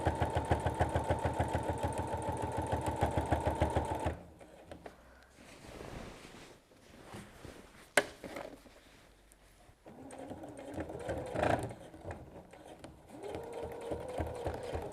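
A sewing machine stitches binding onto the back of a lap quilt, its rapid needle rhythm loud and steady at first, then stopping for a quieter stretch of handling noises before the motor runs again.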